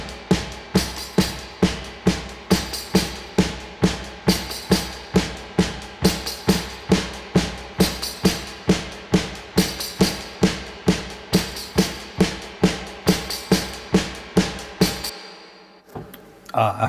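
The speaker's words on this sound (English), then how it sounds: "So the drums sound like this." A re-recorded drum track for a one-man-band studio cover of a song, with a crushed top end, pounds out steady, even beats that keep going for most of the passage, then stops abruptly near the end.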